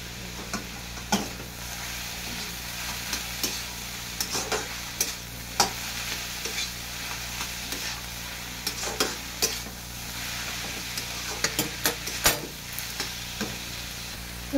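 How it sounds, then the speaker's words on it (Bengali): Fried spices for a cauliflower chop filling are stirred in a pan, with repeated scraping knocks of a utensil over a low, steady sizzle, irregular taps scattered across the stretch and no speech. "এইগুলো দিয়ে আমি সব একসাথে দিয়ে নেড়ে চেড়ে নেবো।"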